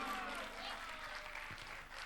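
An audience claps steadily in sustained applause at a Hindi poetry recital, heard from a distance at low level as a dense, even patter of many hands.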